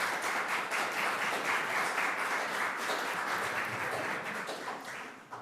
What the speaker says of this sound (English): I don't usually allow clapping either,